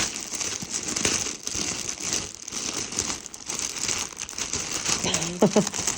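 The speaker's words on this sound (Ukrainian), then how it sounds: "Відкриваємо пакетик." Crinkling and rustling of a plastic delivery package of children's clothing being handled and pulled open, close by, with a few sharper crackles toward the end.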